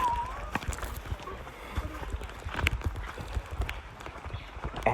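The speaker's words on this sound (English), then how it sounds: "Oh my God, is that a freaking horse?" Horse hooves clip-clop on ground near a waterfall in the Dominican Republic, a fast, irregular patter of hoof strikes under outdoor ambience and a faint voice.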